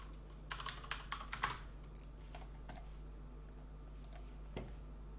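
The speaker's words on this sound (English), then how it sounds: "But Maya was happily taking over my keyboard" A pet walks across a computer keyboard, setting off a quick cluster of faint irregular key clicks and taps, followed by a few scattered keystrokes over a quiet room hum.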